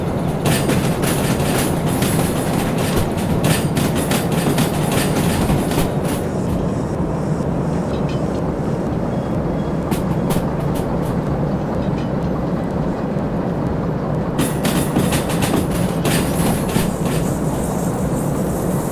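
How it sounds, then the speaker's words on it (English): Continuous rumbling train noise in the video game Derail Valley, rattling, clattering wheels and bursts of metallic clanking, heavy and close, building into chaotic scraping toward the end as the train derails in fog. "that's the sound of derailment announcing itself."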